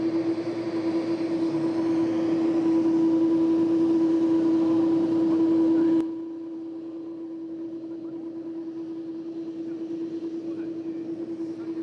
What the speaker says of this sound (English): It is these CF6 engines.